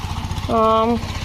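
An old power tiller engine runs while ploughing a farm field, a steady, rhythmic low chugging with a person's voice over it midway.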